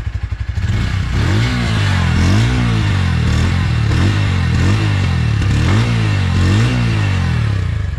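A Bajaj Pulsar N150 motorcycle engine runs loud and close, starting with a quick burst then revving up and down in several repeated swells over a steady idle, with no voices.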